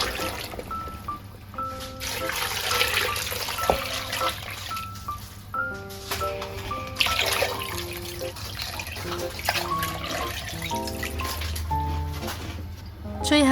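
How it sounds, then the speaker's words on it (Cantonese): Clean water pours into an electric soup pot holding pork bones, yam bean, peanuts and black-eyed peas, making a continuous rushing splash with trickling. Background music plays with tonal notes underneath. "然後就加入清水"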